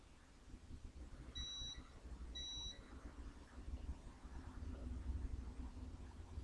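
Two short, high electronic beeps from a multimeter in continuity mode, testing a Lenovo Vibe P1 phone board, about a second apart, each lasting roughly half a second, over a steady background hum and noise.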